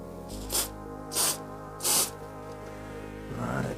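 Three short hissing bursts of WD-40 silicone aerosol spray onto O-rings, evenly spaced, over a steady low hum in a quiet room.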